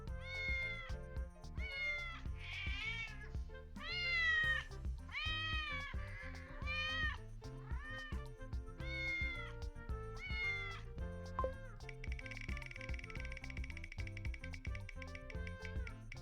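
A cat meows repeatedly in clear, close, drawn-out calls with varied pitch, some rising into a wailing caterwaul, followed by a longer sustained cry near the end, with no talking over it.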